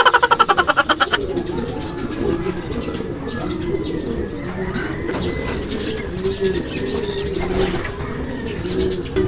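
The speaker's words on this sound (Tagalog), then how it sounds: "Kaya, mababait tong mga kalapate na to." Pigeons coo steadily and close in a fancier's loft, their low, rounded calls overlapping. A burst of rapid wing flapping opens the sequence, and a person speaks softly in the background.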